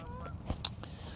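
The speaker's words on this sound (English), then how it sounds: "Canada geese flying by." Canada geese honk while flying by near a lake below a dam, a couple of faint, brief honks over low outdoor background noise.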